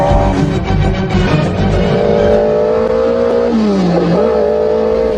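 A motorcycle engine revs hard and close, its pitch climbing, dipping and rising again in a loud, sustained whine.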